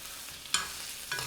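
Halved Gulf shrimp fry in a pan with olive oil, toasted sesame oil, garlic, ginger and green curry paste, a soft steady sizzle broken by two sharp scrapes of stirring.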